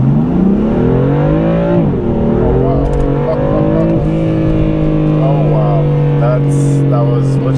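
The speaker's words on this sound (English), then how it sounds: "That was what you call an acceleration" A 2016 BMW M4 in M dynamic mode pulls hard under acceleration, its engine note climbing steadily and loud from inside the cabin, with a brief dip around a gear change and people talking over it.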